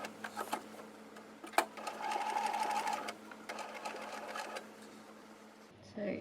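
A sewing machine stitches all the way around a fabric book cover at moderate distance, running in bursts with short pauses between them and a brief whine in the middle.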